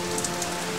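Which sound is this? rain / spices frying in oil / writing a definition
rain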